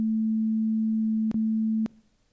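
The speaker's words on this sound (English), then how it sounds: "And that creates a sine wave that sounds something like this." A synthesized pure sine tone from a tiny 4kb intro audio routine holds steady and loud, broken by two sharp clicks before it cuts out into near silence.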